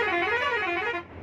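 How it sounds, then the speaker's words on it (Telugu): An AC premium sleeper bus on the Bengaluru to Vizag route gives one loud, sustained blast of its horn with a rich multi-tone sound, cutting off sharply after about a second. "సూపర్ హారన్ కొట్టాను ఒకసారి"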